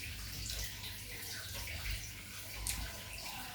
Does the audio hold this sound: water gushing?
yes